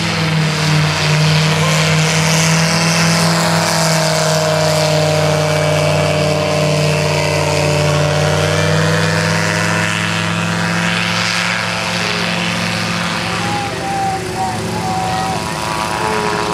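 A gyroplane at a rotorcraft fly-in taxis away with its propeller engine running, a loud, steady droning hum with shifting tones as it moves, while a public-address voice talks over it.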